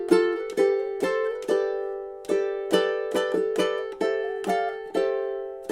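Ukulele playing a gentle melody with busy double-time strumming, bright chords struck in a steady repeating rhythm, close and clear with no voices.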